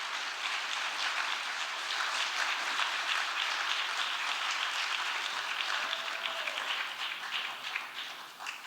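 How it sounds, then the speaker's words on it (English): A theatre audience applauds after a storyteller finishes a story, steady dense clapping filling the whole stretch at full strength before easing slightly near the end, with no voices over it. "Let's give Mary a big round of applause."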